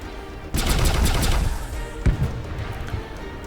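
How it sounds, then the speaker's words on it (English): Pulse barrage weapons fire in the space game Sunrider Liberation Day as a dense, loud rattling volley of rapid impacts, followed by a single sharp blast and a fading rumble. "Pulse barrage, fire."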